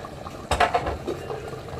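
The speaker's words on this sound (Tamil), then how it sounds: "சிக்கன் வந்துட்டு மசாலாவில் பயங்கரமாக கொதிச்சு வந்துட்டாங்க" Chicken simmering hard in a masala on the stove, a thick bubbling burst rising loud for a moment and then settling back to a steady sizzle and blurp.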